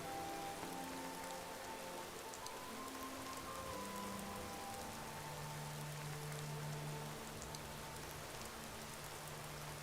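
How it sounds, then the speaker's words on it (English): Rain in the video game Skyrim falls as a steady soft patter on surfaces, quiet and continuous, beneath faint sustained musical tones and a single brief spoken word. "I'd like to see it without the rain"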